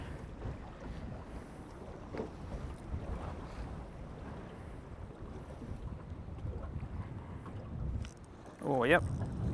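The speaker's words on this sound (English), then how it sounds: "It is so windy." Strong wind buffets the microphone while fishing by the water, a steady gusty roar throughout with a few faint knocks and a short burst near the end.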